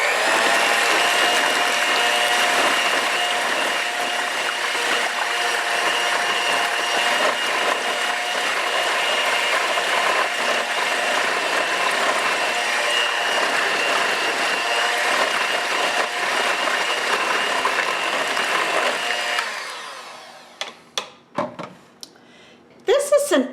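An electric mixer beats instant pudding mix at its lowest speed, giving a steady motor whir that runs for about twenty seconds and then stops, followed by a few sharp clinks and knocks.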